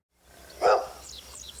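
On a hot day in Elmdale, Kansas, a dog lets out one bark at moderate distance, standing out briefly over a quiet outdoor background.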